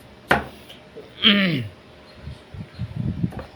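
A knife chops garlic into small pieces on a board for a pork and fresh mushroom dish: one sharp chop stands out, then softer, quicker taps follow, with a brief voice sound in between.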